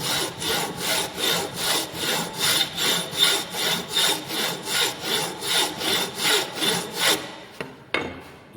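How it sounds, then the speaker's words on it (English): A flat file rasps back and forth across metal in about fifteen even, rhythmic strokes, loud and close, before stopping with a brief clatter near the end. "Slightly filing."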